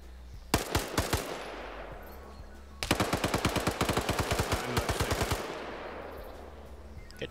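Rapid automatic gunfire rings out in a video game match, first a short burst of several shots, then a longer sustained volley of sharp, evenly spaced cracks that fades into ringing reverb.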